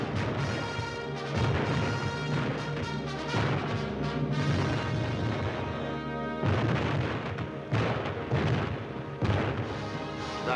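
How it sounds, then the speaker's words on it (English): Dynamite blasts set off during sham training skirmishes for World War II Coast Guard war dogs, loud rumbling booms that run together into a dense, continuous roar with a tonal layer beneath, and no voices. "Exploding dynamite in sham skirmishes keyed us to battle conditions."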